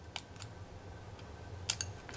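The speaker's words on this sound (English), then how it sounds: "Use some sharp scissors." Sharp scissors snipping while building a 1/6 scale rifle set model, a few faint crisp clicks spaced apart against low background hum, with a quick double snip near the end.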